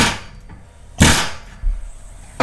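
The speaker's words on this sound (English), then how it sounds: "I'm just going to tap it with the air hammer." An air hammer gives short, sharp metallic raps on a Tacoma truck's steel frame during a solid axle swap, three separate hits spaced apart, close and loud over faint shop noise.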